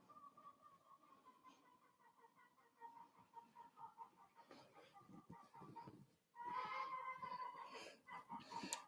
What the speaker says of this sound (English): So that's a chicken telling me she laid an egg.